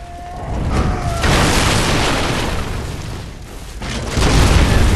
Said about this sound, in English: How do you like my cannon, bitch?